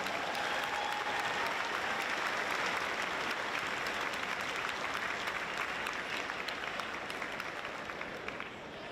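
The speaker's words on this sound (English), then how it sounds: "Congratulations, West Bloomfield graduates. You may applaud." Sustained applause from a large graduation commencement audience cheering West Bloomfield graduates, a steady dense clatter of many hands lasting throughout and tapering slightly at the end.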